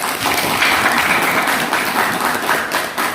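Applause from students in a classroom, a steady dense burst of many hands clapping at close range for about three seconds, with no talking over it.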